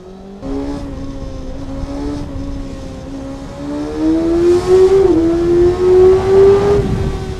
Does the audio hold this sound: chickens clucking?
no